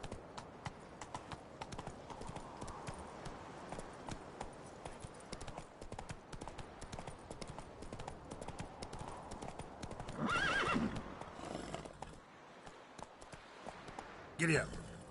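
Horse hooves clip-clop steadily at a gallop in The Witcher III, with occasional whinnies, a rider's voice calling out now and then over the rhythmic hoofbeats.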